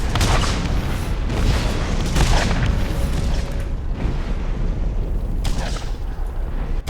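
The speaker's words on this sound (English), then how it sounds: "He ran into a mine. You could tell because that's why the ground started blowing up." Mines detonating in Borderlands, the Secret Armory of General Knoxx: a run of loud, heavy explosive booms and bursts rolling over a constant rumbling background, strongest in the first few seconds.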